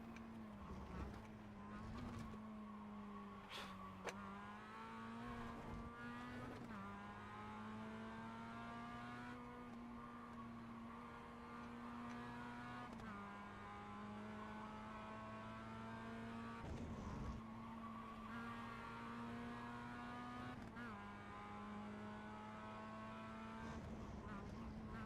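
Race car engine in the iRacing sim holding a steady high drone through a full-throttle corner, with brief dips and shifts in pitch, while a voice talks over it throughout.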